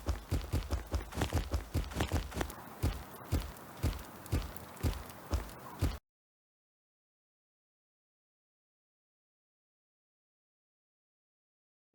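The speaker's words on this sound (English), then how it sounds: "let you just hear what the footsteps used to sound like and what they sound like now." Footsteps from the video game Red Rampant sound as a steady, rhythmic series of firm, thudding steps at a walking pace, fairly loud and close, lasting about six seconds before cutting to silence.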